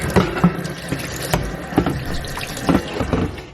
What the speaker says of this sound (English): First I'm going to rinse that with cold water.